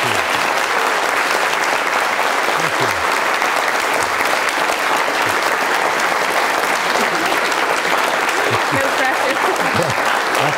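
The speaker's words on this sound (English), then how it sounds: "Well clapped. Very well clapped." Sustained, dense applause from a student audience at a Q&A in Dublin with a guest speaker, steady and loud throughout, with a voice faintly audible underneath.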